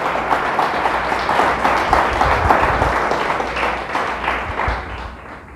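Church congregation giving loud applause, a thick continuous roar of clapping that eases slightly toward the end.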